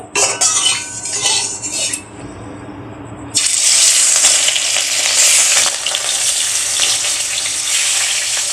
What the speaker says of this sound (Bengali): আমি মাছটা ভেজে নেব